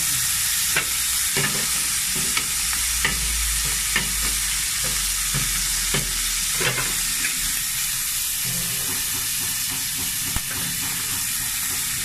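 Fish sizzling and frying steadily in a hot pan, with repeated stirring scrapes punctuating a constant hiss, close and loud, with no talking.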